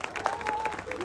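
Applause breaks out from a crowd at an outdoor political rally, a brief burst of dense clapping with a faint tonal note running through it.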